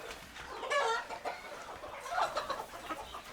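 Several desi chickens cluck and squawk close by inside a poultry shed, overlapping calls rising and falling continuously.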